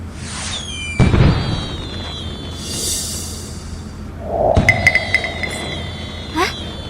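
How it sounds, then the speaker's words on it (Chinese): Summoning signal fireworks in a Chinese martial-arts drama fire with a whistling rise and a sharp burst, then a second burst with crackling sparkle and a ringing tone, set against a low dramatic background hum. "是剑圣大人的宣召烟花。"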